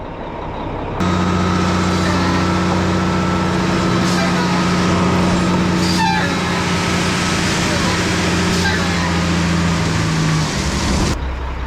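A heavy truck idles and rumbles steadily nearby at a job site where gravel is being delivered, with a loud continuous engine drone and brief scraping bursts, while voices talk faintly under it.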